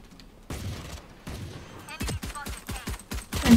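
Gunfire in an online multiplayer shooter game: several bursts of rapid shots, louder toward the end, with brief voice sounds between them.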